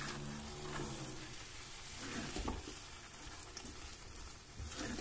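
Paneer bhurji with methi and broken fried cashews is mixed in a hot pan, giving a close, steady sizzle with soft scraping stirs and a few clacks of the spoon.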